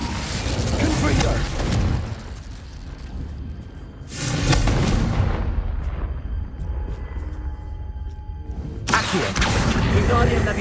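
Confringo fire blast spells bursting in Hogwarts Legacy on PS5, three loud booming explosions with crackling tails, each swelling up then fading under ongoing game ambience and mechanical clatter.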